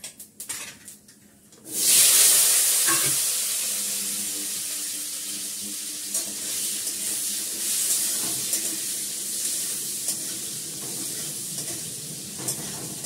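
Potatoes added to hot mustard oil after a cumin tempering burst into a loud, close, sustained sizzle that slowly settles. A few scraping stirs follow, and a faint clatter comes before it. Nobody talks.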